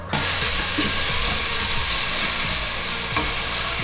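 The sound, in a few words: onions frying and sizzling in a pan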